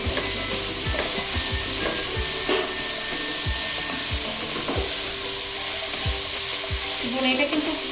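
Cabbage stir-fried on high heat for fried rice sizzles steadily in the pan for about eight seconds, broken by repeated scraping and clacking strokes of a spatula.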